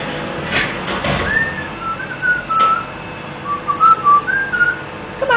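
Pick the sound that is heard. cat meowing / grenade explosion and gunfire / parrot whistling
parrot whistling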